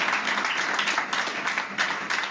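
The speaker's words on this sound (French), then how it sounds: "Si tu veux acclamer, acclame bien." A church congregation at a worship service claps and applauds in a steady, fairly distant wash of hand claps, with faint voices underneath.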